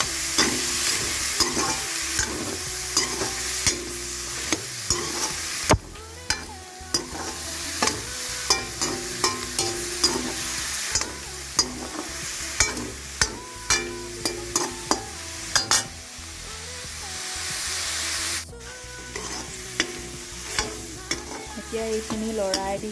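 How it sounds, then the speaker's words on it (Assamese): Chopped onion, tomato and two green chillies fry in a pan for chicken curry, a constant sizzle broken by repeated scraping and clacking strokes of a spoon stirring the mixture. "এইখিনি ভাজি থাকিম অলপ সময়"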